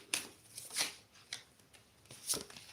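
A deck of cards shuffled by hand in several quick riffling bursts, crisp and close, separated by short pauses with no talking.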